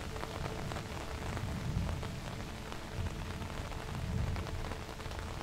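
Steady rain falls around a windmill, a dense continuous patter on surfaces with soft low rumbling swells, heard close and alone without any voices.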